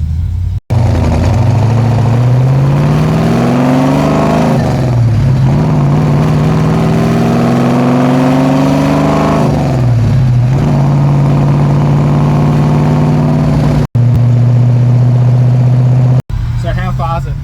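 Stroked and cammed Ford XA GT Falcon V8 idling close by with a loping, uneven rumble and occasional blips of revs, while people talk over it.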